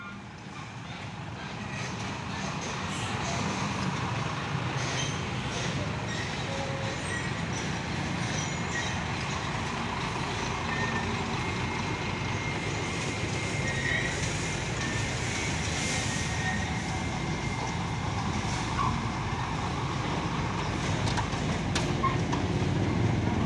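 A truck rolls past in a long queue of traffic on a road in Kalimantan, a steady broad rumble of engines and tyres close by that persists for the whole stretch with little change.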